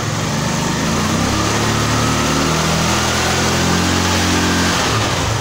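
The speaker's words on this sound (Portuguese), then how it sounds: "O escapamento dela, pelo jeito, tá sem o miolo, que ela tá bem barulhenta" A Sundown Future 12 scooter idles with its exhaust missing the baffle, giving a loud, raw, constant engine drone with a buzzy rattle that holds steady from start to finish, close up and with no talk.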